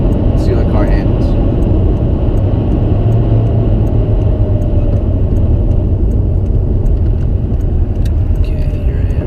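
A 2001 Volkswagen Jetta 1.8T Wolfsburg drives along a road, its engine and road noise forming a loud, steady drone that continues unbroken from start to finish.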